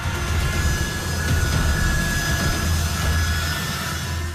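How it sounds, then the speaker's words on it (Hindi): An American plane begins its takeoff roll on a runway in Afghanistan, a steady, loud, close engine roar and rumble holding without a break, with no voices. "टेक ऑफ के लिए रनवे पर अमेरिकी विमान ने चलना शुरू ही किया था"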